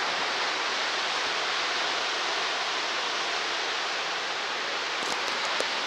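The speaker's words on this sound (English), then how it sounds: "Okay, time for another view of this waterfall." Shoshone Falls, the tall waterfall at Twin Falls, Idaho, pours in a steady, loud, broadband roar with no break, close and alone, with a few faint brief ticks near the end.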